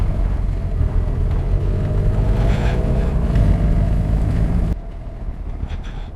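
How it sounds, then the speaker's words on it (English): A BMW tech support truck ploughs through a mud puddle on an outback Australian track, a loud, steady engine roar with churning rumble for several seconds, then dropping abruptly to a quieter drone near the end. "Here's John in the BMW tech truck going for it through this mud puddle."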